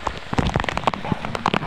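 Heavy rain pelts down close by at Nilinti-an Falls in Balud, Masbate, a dense, uneven patter of drops hitting surfaces with no voices.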